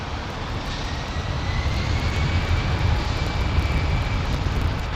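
An airliner still wearing its ex-rugby livery moves at London Heathrow, its jet engines giving a steady, moderately loud roar with a faint high whine running through it.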